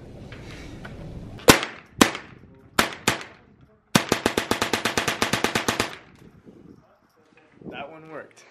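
A .22 rifle fitted with a fast trigger fires a few single sharp shots, then a rapid burst of about fifteen close, loud cracks. Brief talking follows.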